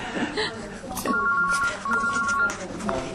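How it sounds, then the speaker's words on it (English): A mobile phone rings during an interview in the control room at Tattersalls, its repeated electronic trill heard in two bursts under a steady background murmur. "do you love when your mobile phone goes off in the middle of an interview?"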